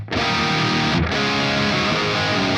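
High-gain electric guitar through a free amp simulator plugin, two loud distorted chords, the second struck about a second after the first and left ringing with a thick sustained buzz.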